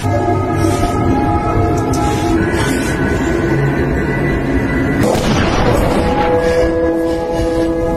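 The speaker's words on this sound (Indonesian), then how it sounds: "Malang sekali Louis yang baik hati pun harus meninggoy ditembak Sean" A gunshot and sharp impact in a film crime-drama scene about a drug cartel, one loud burst cutting in around the middle over a dense, continuous bed of tense score and background noise.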